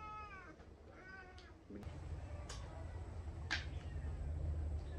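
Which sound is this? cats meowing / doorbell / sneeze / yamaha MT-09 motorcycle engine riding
cats meowing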